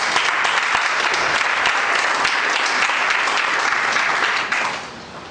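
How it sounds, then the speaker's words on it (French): Loud, dense applause from an audience at a formal French-language ceremony, a sustained wall of clapping that holds steady before fading toward the end. "je voudrais qu'on l'applaudisse très très fort"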